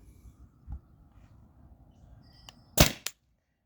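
A stock Tippmann TPX paintball marker runs on a 20 oz CO2 tank through a remote line. After quiet background noise and a faint early pop, one sharp, loud shot cracks out near the end, followed by a short echoing tail.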